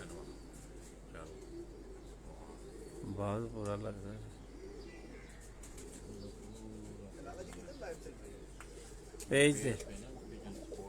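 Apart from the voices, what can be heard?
pigeons cooing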